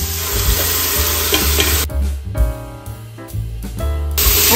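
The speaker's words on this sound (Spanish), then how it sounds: "Hay que sofreír bien" Chopped onion and garlic sautéing in a pan, a loud, dense sizzle broken by stirring, which briefly mutes the frying before it swells again, close up and with no talk.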